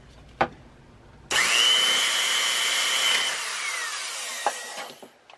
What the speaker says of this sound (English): So I've taken this drill and I've wrapped a washcloth around one end.